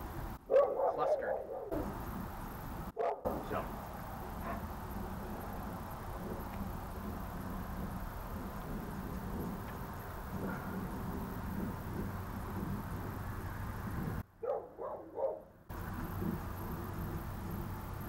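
A dog barks repeatedly in a backyard during archery practice, with yips and whimpers mixed in. The sound is moderately distant, with occasional people talking and faint car noise in the background.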